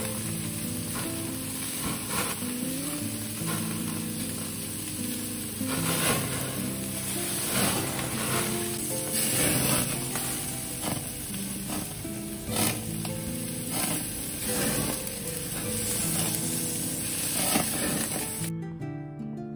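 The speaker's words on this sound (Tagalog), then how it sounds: "Umpisa na natin, umpisa na natin barbecue." Pork belly seasoned only with salt and pepper sizzles steadily on a backyard barbecue grill, a loud, close, continuous crackling hiss with no voices.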